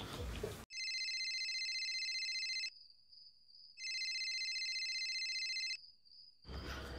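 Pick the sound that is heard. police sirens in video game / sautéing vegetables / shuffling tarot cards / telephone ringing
telephone ringing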